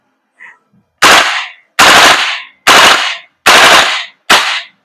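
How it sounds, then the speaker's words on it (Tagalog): A Cybergun Colt URGI 14.5 airsoft gas blowback rifle by VFC fires five loud, sharp, evenly spaced shots at close range, each with a short crack and quick decay, after a couple of faint mechanical clicks. "switching to auto, full auto, burst mode. Okay, so 4 shots."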